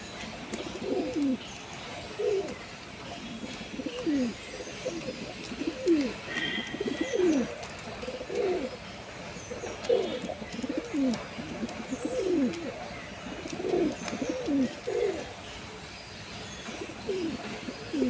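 Pigeons coo repeatedly in a steady rhythmic pattern, close by at a pigeon coop, with soft outdoor background noise.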